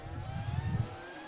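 Race car engine in a sim race at Aegna Saar circuit, a BAR among the cars, drones and whines steadily during an overtake, a rising mechanical tone heard fairly close with no talk.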